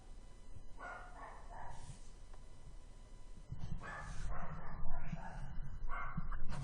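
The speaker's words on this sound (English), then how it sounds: "You'll hear my dog barking in the back." A dog barks repeatedly from a back room, with a few clustered bursts of moderately loud barks over a steady indoor background hum, with no talking.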